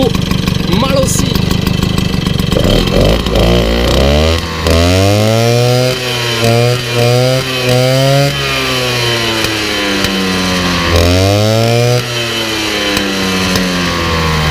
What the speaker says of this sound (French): le bruit du pot Malossi